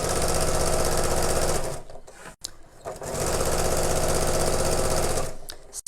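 A noisy sewing machine stitches fabric close to the microphone, running in a steady loud whir, pausing briefly, then starting again for another long stretch.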